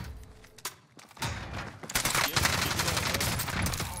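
Rapid automatic gunfire from the video game MW3 Warzone on Rebirth Island, a few scattered shots at first, then dense, sustained bursts of loud, near firing.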